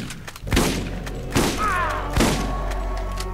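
A shotgun in the video game Borderlands fires three booming shots at a steady pace, each a punchy thud with a ringing tail, loud and close.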